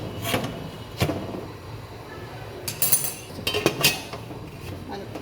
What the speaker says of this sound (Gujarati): હવે આપણે આ થાળી મેળશું. હવે આપણે બીજી થાળી મેળશું.